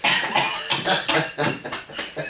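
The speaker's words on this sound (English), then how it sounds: "Sorry, I'm coughing." A run of harsh, rough coughs in quick succession, loud and close, with short breaths between bursts.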